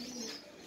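A caged pigeon pair coos once, a soft, brief, low throaty call, faint and fairly close in a quiet pigeon loft.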